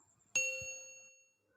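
A single bright bell ding used as a subscribe-reminder sound effect, struck once cleanly and ringing out with a long, slowly fading shimmer before silence.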